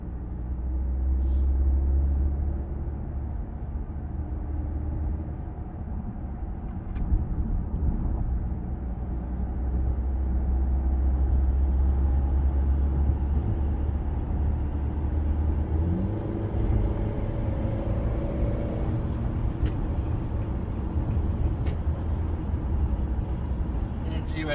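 Car on a test drive with a quiet, refined cabin: steady low engine and road rumble heard from inside, with gentle shifts in tone as speed changes, and a voice talking throughout.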